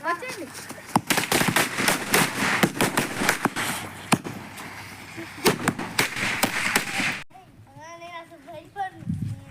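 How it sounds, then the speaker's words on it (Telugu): Firecrackers bursting at a children's Dasara celebration at a school, a rapid string of sharp loud cracks and pops, followed by children's voices once the bursts stop. "ఇప్పుడు అది అంటించండి, కింద టపాకాయలు అంటించండి."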